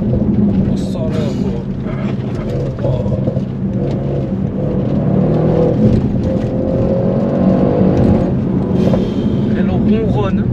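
Engine of an Audi RS6-R tuned to 730 hp, rumbling and whirring steadily from inside the car as it accelerates, a continuous low drone with rising tones, with voices talking over it.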